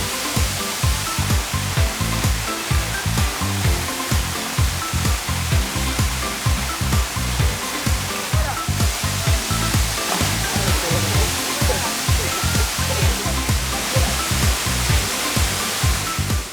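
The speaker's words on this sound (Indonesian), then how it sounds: "Air terjun Putri Kayangan memiliki 3 tingkatan dengan aliran air yang cukup deras." The three-tiered Putri Kayangan waterfall pours with a strong, fast flow, making a loud, steady, dense roar of rushing water up close.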